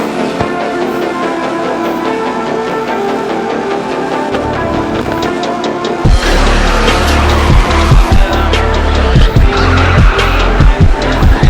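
A BMW drifts in the FR Legends video game, its engine revving loudly and tires squealing in long continuous skids that grow louder and rougher partway through.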